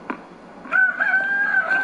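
A chicken clucks and crows in a short, nasal, wavering call heard fairly close, coming after a brief quiet moment, with no talking over it.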